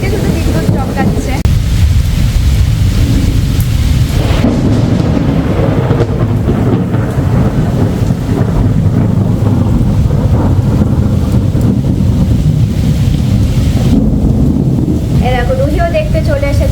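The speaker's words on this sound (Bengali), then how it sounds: "এতক্ষণে ঝমঝমিয়ে বৃষ্টি নেমেছে।" Heavy rain pouring down during an evening thunderstorm with frequent nearby lightning, a steady dense roar with low rumbling swells, wind buffeting the microphone, and a voice speaking over it in places.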